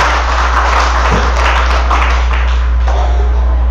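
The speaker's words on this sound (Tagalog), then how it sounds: "Malakas na palakpak sa ating Panginoon." A congregation at a Filipino healing-message service gives loud, sustained applause, a steady dense wash of clapping over a low electrical hum, with no speech.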